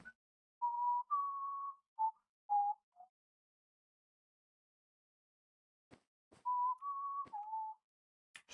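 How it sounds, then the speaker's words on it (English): Someone whistles a short tune in clear, pure tones, a phrase of several notes, a pause with a few faint clicks, then the phrase repeated, with nothing else behind it. "Sorry, I love whistling."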